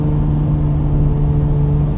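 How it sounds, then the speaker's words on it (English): A Lamborghini Murcielago SV's engine drones steadily and loudly from close inside the car during a first gear downshift, a sustained low mechanical hum with no talking. "Gosh, that first gear downshift."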